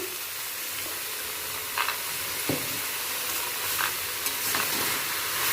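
Bottle gourd with salt goes into a hot wok and cooks with a soft, continuous sizzle and hiss, marked by a few light stirring scrapes and taps.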